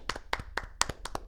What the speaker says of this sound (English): Let's give a round of applause to America